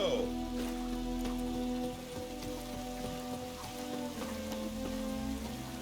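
Rain in the video game Witcher 3, a steady patter of drops on surfaces heard up close, with sustained tonal game music beneath it.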